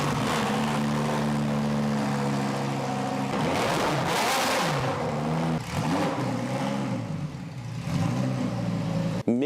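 Lamborghini Gallardo with a straight-pipe exhaust, its engine droning loud and close with steady harmonic tones, then revving up with rising surges around the midpoint before settling back to a raw, rumbling idle.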